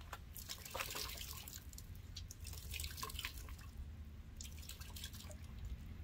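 Water drips and trickles from a wrung-out, soaked microfiber drying towel during a car wash, a soft steady patter of droplets close by with no talking.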